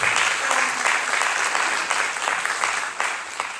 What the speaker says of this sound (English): We should give ourselves a round of applause for that.